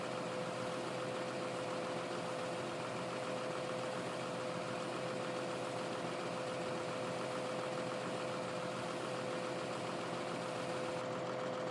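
A tractor engine idles steadily in Farming Simulator 2013, a continuous mid-pitched drone with a faint knocking vibration that holds unchanged throughout, with no talking.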